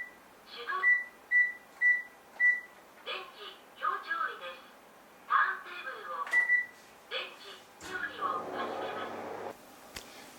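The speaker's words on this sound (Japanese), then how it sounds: "電子レンジで2分加熱して混ぜる。" Microwave oven heating a custard mix of egg, brown sugar, rice flour and milk, with a string of four short loud beeps at the start and more tones later over a low hum, alone without talk.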